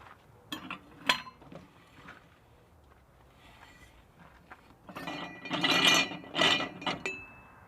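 Tire being mounted on a Harbor Freight manual tire changer: scattered metallic clicks and clanks, then a louder burst of scraping, ratcheting metal and clinks near the end as the bead seats.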